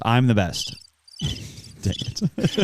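Cricket chirps from a podcast soundboard ring out as a brief pulsed trill, followed by someone speaking.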